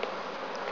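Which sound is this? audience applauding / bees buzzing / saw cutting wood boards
bees buzzing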